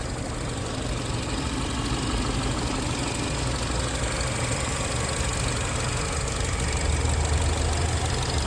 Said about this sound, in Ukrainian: І моторчик просто шепче.